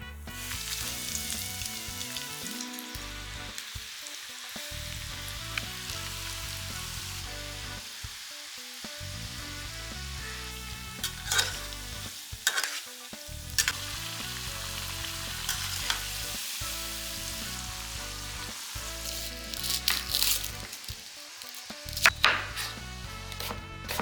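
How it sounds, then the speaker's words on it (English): Potatoes sizzle steadily in hot oil for honey chilli potato, a loud continuous frying crackle broken by occasional sharp clatters and scraping of a utensil in the pan, with no talking. "Now let's fry the potato."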